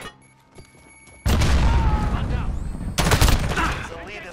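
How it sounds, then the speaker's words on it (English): A grenade blast in Call of Duty: Modern Warfare multiplayer deathmatch, an abrupt loud boom followed by rolling gunfire and a second sharp burst, close and dense. "Grenade out!"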